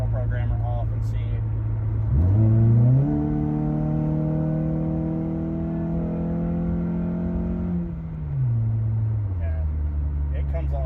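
An Acura TSX engine fitted with a Skunk2 intake revs up sharply, holds a steady high drone for several seconds, then drops back to idle, close and loud with no talk over it.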